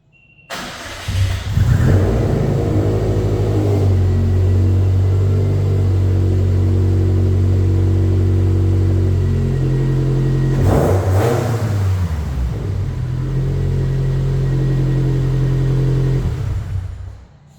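A Subaru engine cranks and catches, then holds a loud, steady rumbling idle with one sharp rev in the middle before settling back and shutting off near the end.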